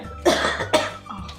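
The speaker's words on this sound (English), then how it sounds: "I have to cough." Two loud coughs in quick succession, close up, followed by a softer throat sound.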